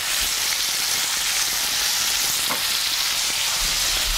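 Goat meat for curry sears in a hot pan, giving a loud, continuous hiss and crackle of fat that stays steady and close from start to finish.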